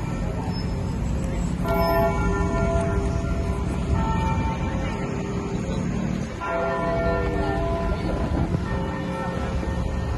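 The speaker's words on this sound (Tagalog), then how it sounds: "Ayan, tumutunog na yung kampana." A church bell rings steadily over a loud, continuous outdoor background in a Canadian town with ongoing construction. The tones hold and overlap throughout with no clear pauses.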